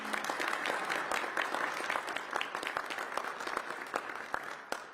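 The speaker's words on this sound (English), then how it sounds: "Yeah, you can clap for that." Audience at a mayoral health announcement clapping, a steady, moderately distant patter of many hands lasting several seconds without speech.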